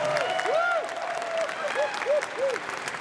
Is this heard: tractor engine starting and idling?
no